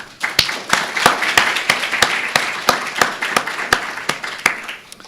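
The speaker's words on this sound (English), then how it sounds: "Can we have a big hand of applause for her?" A conference audience in Singapore applauds during a welcome address: dense, steady clapping for about five seconds, with one sharp, loud clap striking at a brisk even beat above the crowd.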